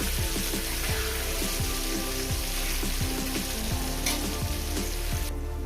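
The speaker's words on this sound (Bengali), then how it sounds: "আলুগুলো আমি সুন্দর করে ভেজে নিয়েছি" Potatoes frying in hot oil until golden for a Bengali chicken curry, a dense close sizzle under a run of quick rhythmic spatula strokes against the pan, with no voices.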